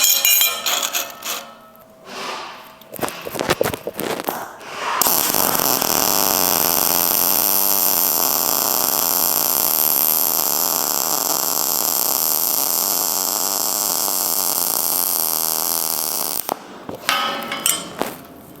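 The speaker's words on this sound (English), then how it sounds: "So now let's bump it up. Let's weld a little bit thicker and see what it does." MIG welding of thicker steel with a Mig 2800i welder: a steady, loud crackling arc holds for about eleven seconds, with short clanks and handling noises before and after.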